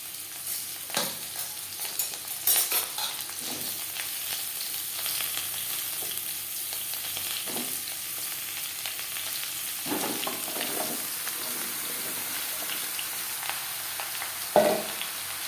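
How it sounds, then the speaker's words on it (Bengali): Chopped bottle gourd sizzles steadily in hot oil in a pan, with a continuous broad frying hiss and occasional louder crackles and stirring scrapes, close and alone without talk. "লাউ আমি একটু ভেজে নেবো"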